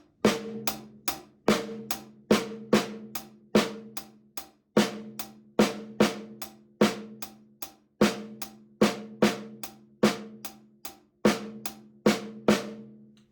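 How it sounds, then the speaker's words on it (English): Drum kit paradiddle played with the right hand on hi-hat and the left on snare, a steady rhythmic run of sharp strokes repeating evenly for several seconds, close and clear with no talking. "we're just going to play the paradiddle and get used to what that sounds like"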